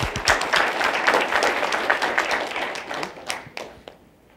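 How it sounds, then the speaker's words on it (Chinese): A conference audience claps to welcome a speaker, a burst of many hands that swells quickly, then thins into scattered claps and fades out near the end. "给我掌声欢迎一下我们的讲者"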